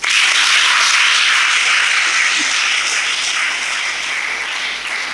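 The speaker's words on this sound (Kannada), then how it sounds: "ಅವರೆಲ್ಲರಿಗೂ ಜೊತೆಯಾಗಿ ಒಂದು ಚಪ್ಪಾಳೆ ಹಾಕಬೇಕು" An audience at a school function applauds, a loud, dense wash of steady clapping that begins at once, holds throughout and eases slightly near the end.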